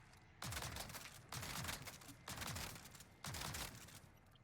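R9 shotgun in Call of Duty Warzone firing in rapid-fire mode: four distinct blasts spaced about a second apart, each with a sharp crack and a decaying tail, fairly quiet overall with no talking.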